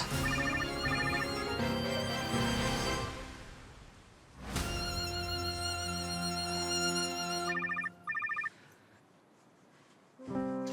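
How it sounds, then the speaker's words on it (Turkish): A mobile phone rings with a repeating electronic melody, loud and close, pausing briefly and then resuming in bursts, with no talking over it. "Telefonun sesinden kulağım kanıyor ama sen ısrarla açmıyorsun."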